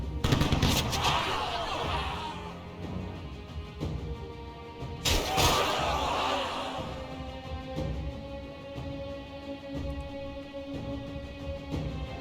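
Troops shooting in the video game We. the Revolution, heard as a couple of loud volleys of gunfire a few seconds apart, trailing off into a lingering, fainter crackle and hum.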